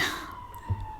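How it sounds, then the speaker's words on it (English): A brief wailing siren tone, steady and moderately loud, with a low rumble underneath. "The sirens."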